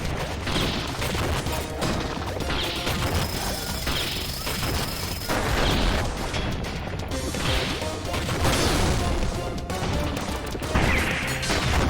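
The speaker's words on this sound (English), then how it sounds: "There's a second explosion." Bombs in the video game Iconoclasts go off in a dense run of loud crashing, crackling blasts with bursts of debris, layered over game music and continuing effects without pause.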